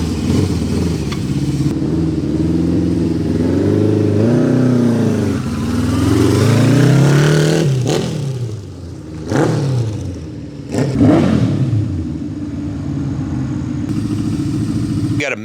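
A 1978 Honda CB550 Four motorcycle engine runs loud and close with a steady, smooth idle, then gives a few sharp blips of the throttle before settling back down.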